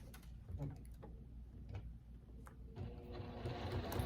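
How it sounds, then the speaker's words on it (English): A sewing machine stitches pieced quilt pinwheel blocks, its rapid mechanical ticking running in short bursts and then more steadily, close up with some quiet background sound. "I'll just pin it on either side and then sew them together."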